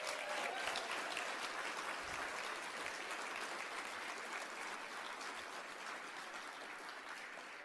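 An audience at a heroes of the year awards ceremony gives a sustained round of applause, a dense, steady clatter of clapping that tapers slightly toward the end.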